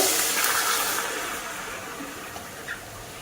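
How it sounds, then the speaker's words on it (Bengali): A bowl of water poured over sugar in a pan to make syrup for kalojam sweets, a steady close watery rush that slowly fades, with no talking. "আর 1 বাটি জল দিয়ে দেব।"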